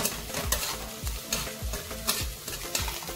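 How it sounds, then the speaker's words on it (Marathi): Green chillies, cumin and coriander leaves roasting and being stirred in a pan for a fasting-day vegetable dish, with a steady dry sizzle and regular scraping strokes of the spatula about every half second, close and moderately loud, no talking. "मिरची, जिरे, कोथिंबीर छान असे भाजले गेले."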